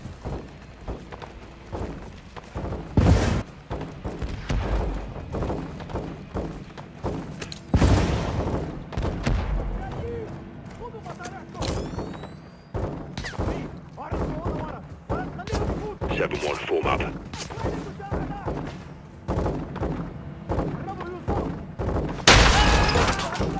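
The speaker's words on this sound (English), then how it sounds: "Crash site is taking rocket fire from building 2!" Rocket strikes and automatic gunfire in Call of Duty Modern Warfare 2, a crash site under attack from a building, with repeated sharp loud bursts and booms, rattling fire and debris over steady battle noise, and voices shouting over the fighting.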